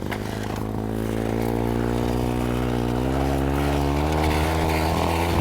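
A small petrol engine fitted on the back of a bicycle runs steadily and close, a droning buzz that rises slightly in pitch as it revs, with no talking.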